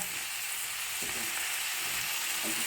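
Chili powder, turmeric and garam masala roasting in a hot pan, a continuous loud sizzle with faint stirring scrapes throughout.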